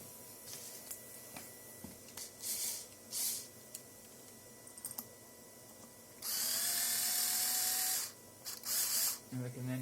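A power tool driving screws while a dirt bike clutch is reassembled, with short whirring bursts and one longer sustained run, amid workshop handling noises.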